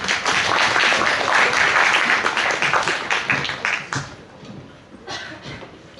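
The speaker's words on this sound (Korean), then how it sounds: "큰 박수 부탁드립니다." Loud, dense applause from a large crowd, sustained for several seconds before thinning out into scattered claps.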